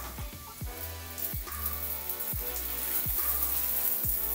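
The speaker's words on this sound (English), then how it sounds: "We've got a rain shower, it's great." A rain shower runs in a hotel bathroom, its steady hiss of falling water filling the space, with a low repeating sweep underneath and no talk.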